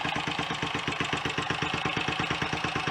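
A Royal Enfield Olympic 250 motorcycle engine idles close by, its rapid, regular firing pulses chugging steadily but hunting and faltering slightly in rhythm, loud and alone with no speech.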